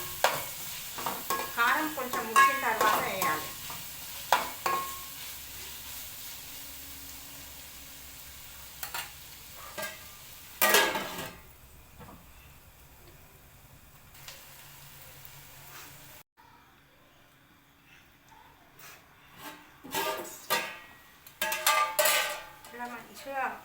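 Ginger paste fries in oil for egg curry while a spoon stirs the pan in bursts of scraping and clinking, separated by quieter stretches of soft sizzling. No voices are heard.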